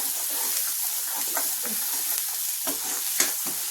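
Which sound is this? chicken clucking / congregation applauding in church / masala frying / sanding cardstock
masala frying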